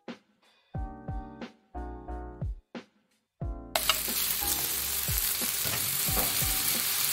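Mushrooms tipped into a hot pan for a home-cooked dish burst into a loud, steady sizzle that fills the second half, after a run of earlier clinks and stirring knocks against the pan.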